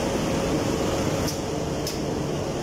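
Large flour mill machinery grinding flour in a big factory with eight silos, giving a steady, dense mechanical roar and hum that fills the space without a break.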